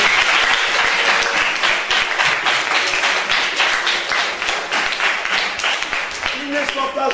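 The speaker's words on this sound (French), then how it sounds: "Et également applaudi papa Moni" A large crowd at a school ceremony applauds steadily, many hands clapping in a thick, sustained burst with some voices faintly underneath.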